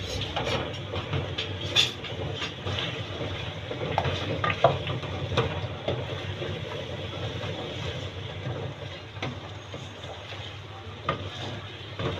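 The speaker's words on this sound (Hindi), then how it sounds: "इसको अच्छी तरह से हम भून लेंगे" Drumstick pods being fried for a curry, giving a continuous low sizzle with occasional light stirring clinks over a steady background rumble, moderately close and fairly soft.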